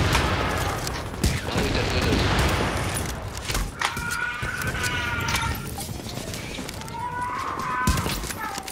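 Video game gunfire as shots are fired through tents in a multiplayer match. The shots come as sharp, scattered bursts over continuous game noise, with voices talking over them.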